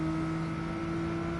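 Race car engine in Gran Turismo Sport holding a steady, droning whine at constant pitch, loud and continuous throughout with no other sounds over it.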